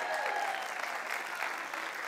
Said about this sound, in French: Bravo, vous pouvez l'applaudir.